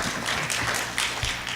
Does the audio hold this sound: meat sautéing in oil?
no